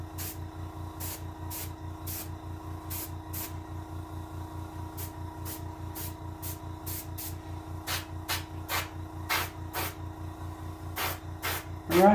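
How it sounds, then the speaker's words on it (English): An airbrush sprays paint onto a green sunfish taxidermy mount in a steady hiss, broken by a rapid run of short regular bursts as the trigger is pulsed, close and fairly loud, with no talking. "I think I might angle spray a little bit,"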